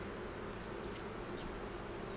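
Carniolan and Buckfast honey bees at a hive during queen introduction give a faint, steady buzzing hum with no break, heard alone.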